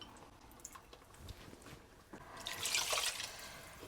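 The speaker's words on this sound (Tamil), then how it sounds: "அதனால் லைட்டாக புளி தண்ணி ஊற்றிக்கலாம்." Tamarind water is poured into a simmering meatless fish curry, a soft close splash and trickle that swells near the end after a few faint drips and clinks.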